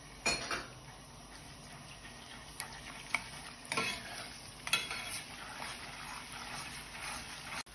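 Tomato paste cooks in a pan for fellah köftesi sauce under a quiet sizzle, with a utensil scraping and clinking against the metal in scattered strokes, close and without speech.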